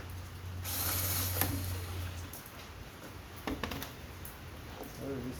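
A drill removes screws from a wall-mounted air conditioner, whirring close for a couple of seconds, then ratcheting clicks and metallic handling follow under scattered talk.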